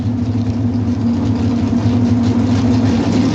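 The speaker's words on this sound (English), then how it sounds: "You see the cars just basically are idling." Drag racing cars, including a Daytona, sit idling in the pre-stage beams at the 1994 NHRA Slick 50 Nationals: a steady, deep, throbbing engine rumble with no revving, continuous throughout.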